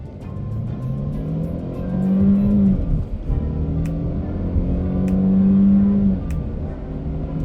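A 2020 Mercedes-Benz E 180 in sport mode accelerating hard from standstill toward 100 km/h, a steady engine drone rising in pitch through gear changes, loud and continuous with no talking.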